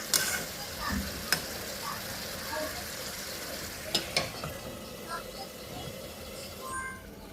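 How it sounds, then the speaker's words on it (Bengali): Egg curry masala with potatoes frying in a pan gives a faint, steady sizzle, with a few sharp clinks of a spoon or lid against the pan and some quiet speech in the background. "ঢাকনাটা উঠিয়ে একটু পর পর নেড়ে চেড়ে দিব তেল উঠা পর্যন্ত এটা আমি কষাবো"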